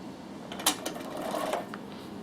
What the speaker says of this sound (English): start sewing